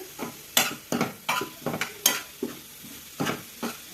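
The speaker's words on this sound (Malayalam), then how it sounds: "മല്ലിപ്പൊടി ഇട്ടിട്ട് നമുക്ക് നന്നായി അങ്ങോട്ട് ഇളക്കിയിട്ട്" A curry with coriander powder is stirred in a pan while it sizzles softly. A spoon scrapes and taps against the pan in an irregular rhythm of about a dozen strokes.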